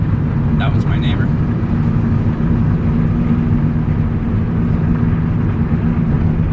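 Constant loud low road roar from studded snow tires on the front of a lifted vehicle driving on bare pavement, with a faint brief chirp early on.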